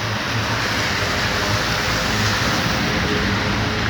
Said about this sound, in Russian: Сейчас идет мокрый дождь и просто улица заливает город.